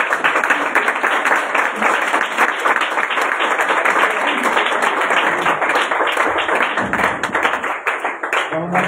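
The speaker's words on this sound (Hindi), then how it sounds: "के कलाम को जोरदार तालियों के साथ।" Loud, sustained applause from a large church congregation, dense and continuous throughout, thinning slightly near the end.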